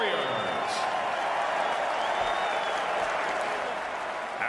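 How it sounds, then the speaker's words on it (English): A crowd applauds after a middleweight bare-knuckle boxing bout at a live BKFC event, with dense sustained clapping filling the arena and an announcer's voice carrying over it. "Let's have a round of applause for these 2 middleweight warriors."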